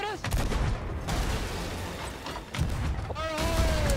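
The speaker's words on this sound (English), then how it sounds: "Are they firing at us?" Cannons boom at a ship in a Sea of Thieves pirate battle, with heavy thuds and rumbling blasts landing one after another while players shout over the chaos.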